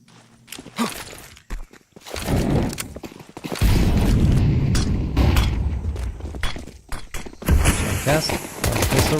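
Gunfire rings out in a competitive tactical shooter match during a pistol round, with scattered single shots, bursts and footsteps building into dense, loud firing under a commentator's voice.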